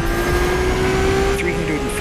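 A Lamborghini Aventador in The Crew Motorfest holds a steady, loud engine drone at constant pitch, with a faint higher whine and tire noise layered over it.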